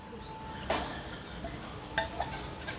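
Mixed sauces for chilli paneer being stirred in a pan, with a few light clinks and scrapes of a spoon against metal over quiet background, close and soft, no talking.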